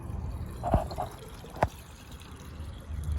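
Clean water poured onto the soil around grapevines in a vineyard, a soft close trickle with a couple of distinct splashy drips standing out over quiet background noise.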